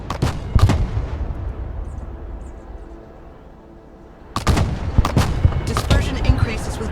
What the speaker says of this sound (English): Fire mission received. Mortar at your command